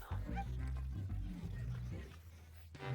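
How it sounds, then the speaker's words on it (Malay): A household dog barks and whimpers in a kitchen during a cooking challenge, short yips and whines mixed with talk and clatter, close and fairly loud throughout the three seconds. "Anjing kita"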